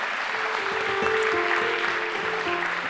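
An audience in Atzara breaks into steady, dense applause, loud and close, with many hands clapping together through the whole stretch.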